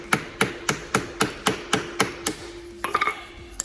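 A hammer taps a stuck bolt on a VW Beetle front axle, about ten light, evenly spaced metallic strikes up close, then a quicker cluster of ringing taps near the end.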